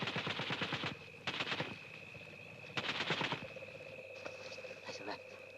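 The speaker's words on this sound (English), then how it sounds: "They've got a machine gun." Bursts of machine-gun fire crackle in rapid, dense volleys, a long burst then several shorter ones, loud and close over a steady high whine, with the fire trailing off into fainter rattles.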